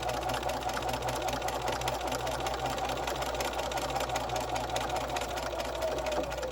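An old towel gets quilted on a sewing machine that hums continuously and evenly, stitching diagonal lines for a pocket potholder with no pauses.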